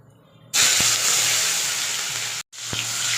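Chopped onion dropped into hot oil in a wok bursts into a loud, sustained sizzling hiss, briefly interrupted and then resuming just as strongly, close up with no voices.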